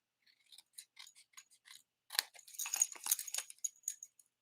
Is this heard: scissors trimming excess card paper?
yes